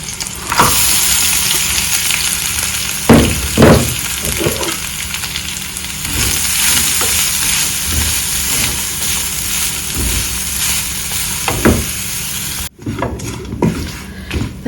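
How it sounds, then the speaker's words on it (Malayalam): Grated coconut roasts in a pan with shallots, curry leaves, ginger and dried red chillies, giving a continuous close sizzle marked by spatula scrapes and clinks, then dropping to a quieter sizzle near the end. "അതുവരെ നമ്മളൊന്ന് ഈ നാളികേരം വറുത്തെടുക്കണം കേട്ടോ."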